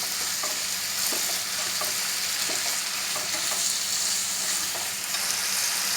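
Mussels with fresh chili are stir-fried in a pan, giving a loud, continuous sizzle with a spatula scraping and tapping now and then throughout.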